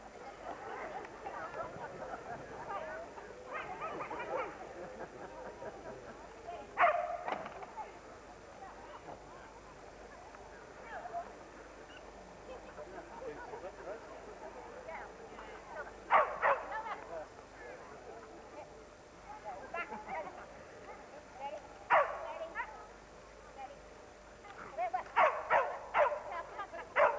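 Dogs bark now and then at an outdoor agility run, in short bursts spread over a long stretch, moderately distant, under a steady crowd murmur and a commentator's voice.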